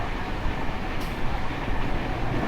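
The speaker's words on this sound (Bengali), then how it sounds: "এই যে মেমু ট্রেনটি আসছে এটাই হচ্ছে আপনার রামপুরহাট বর্ধমান মেমু" A Rampurhat–Bardhaman MEMU train rumbles along the tracks with a steady broadband roar, heard from another train in motion, with no distinct rhythm or talk over the noise.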